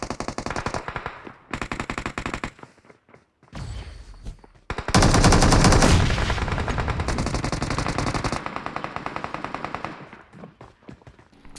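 Loud automatic gunfire in a battle royale video game, bursts of rapid rounds at first, then a long sustained stream of shots that tapers into separate spaced pops.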